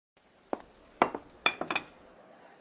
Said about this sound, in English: I set the table now.